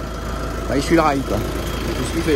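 A driverless tractor without GPS runs along with its engine idling steadily at a low, even level beneath someone speaking in French throughout.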